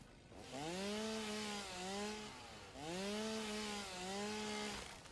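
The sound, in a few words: chainsaw cutting in the video game Satisfactory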